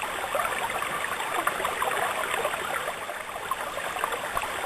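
Rainwater collected off a garage roof into an IBC tank flows out to drive a Pelton wheel, a steady, broad rushing of water, continuous and fairly close, with no talking over it.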